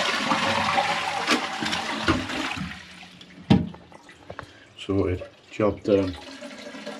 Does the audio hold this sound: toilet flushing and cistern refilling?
yes